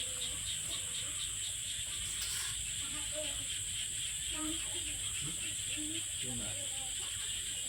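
Frogs and insects call near a hut by a rice field, a steady high insect drone with scattered croaking chirps low in the mix, and faint voices in the background.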